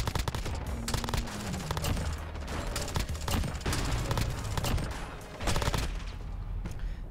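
P90 submachine gun fire in Modern Warfare, steady fast bursts of rattling shots that run almost continuously, with game effects and mechanical clicks mixed in at moderate level.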